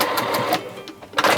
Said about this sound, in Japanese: 細かいミシンの糸で縫ってあげる